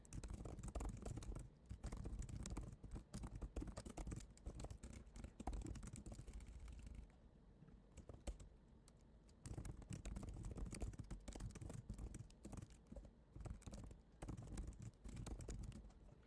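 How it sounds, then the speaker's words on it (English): Fingers type quickly on a computer keyboard, producing a steady patter of soft keystrokes that pauses briefly partway through and then resumes, with no speech over it. "I can type in several ideas that I want this recap or the social media content to include for me."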